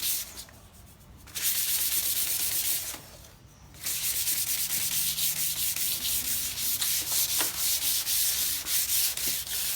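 Close, loud hand-sanding strokes on a car body panel rasp back and forth in a steady rhythm, pausing twice briefly before resuming; no talking.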